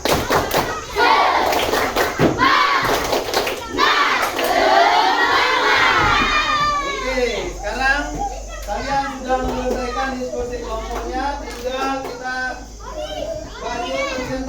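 A classroom of Indonesian schoolchildren does the "tepuk semangat" clap chant during a circle-perimeter maths lesson. Loud rhythmic claps and shouted chanting open the clip, then the children break into lively overlapping chatter and squeals.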